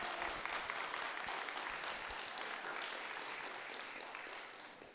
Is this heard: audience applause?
yes